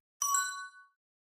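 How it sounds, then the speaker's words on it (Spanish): A short bright chime rings out once as a phone message notification, starting sharply and fading over about half a second, clean and alone. "Esa misma noche, Megan recibió un mensaje anónimo en su teléfono"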